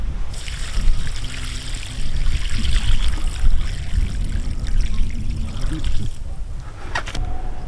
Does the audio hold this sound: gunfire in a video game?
no